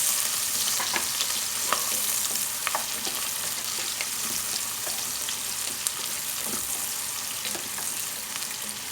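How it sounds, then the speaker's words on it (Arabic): Chopped onion sizzles and crackles steadily in hot ghee as it is sautéed for an Egyptian tagine, with occasional sharper pops and scrapes from stirring, close and continuous without any talk. "السمنه عندي خلاص اهيت. هنزل بالبصل بتاعي الاول"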